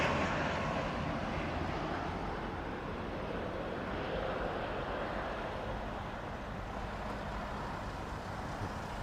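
An Airbus A320neo airliner arriving from Christchurch at Auckland Airport, heard as a steady, broad jet roar that slowly fades a little, with no speech.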